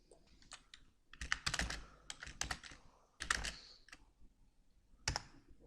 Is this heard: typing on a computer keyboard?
yes